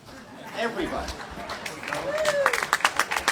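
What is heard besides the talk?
audience clapping hands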